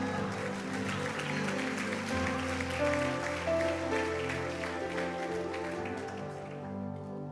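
A church congregation applauding at a morning service in Natal, a dense steady patter of many hands clapping, fairly distant and mixed with sustained music that fades toward the end.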